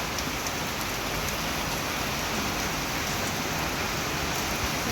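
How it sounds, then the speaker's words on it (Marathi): Heavy first rain of the season pours down as a dense, even hiss of falling water, steady and enveloping for the whole stretch with no voices. "पहिला पाऊस जोरदार चालला आहे"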